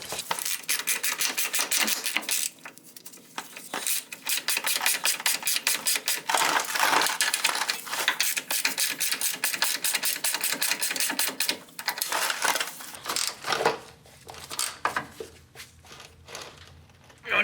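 Ratcheting clicks from tightening the sway bar bushing bolts on a Honda Accord, a rapid close run of mechanical clicks with brief pauses in between.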